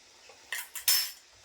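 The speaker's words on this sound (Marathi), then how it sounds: "आता हे सगळं मस्त असं मिक्स करून ढवळून घेते." A spoon scrapes and clinks against a pot or bowl while mixing raw mango preserve with cardamom powder, three quick close metallic strokes in a quiet room.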